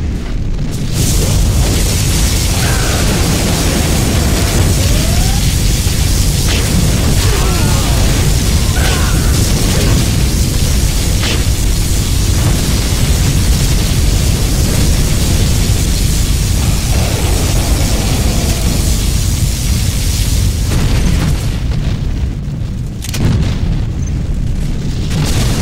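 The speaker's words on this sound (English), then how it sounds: "Particle cannon activated." Particle cannon firing in the Command and Conquer Generals video game, a loud sustained roaring blast with repeated booming explosions rumbling for over twenty seconds before tapering off.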